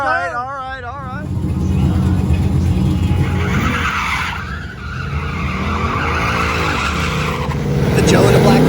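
A rental car launches hard off the line at a drag strip, tires squealing into a loud, sustained engine roar that builds toward the end, with a commentator talking over it throughout.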